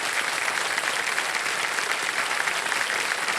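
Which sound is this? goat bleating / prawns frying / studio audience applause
studio audience applause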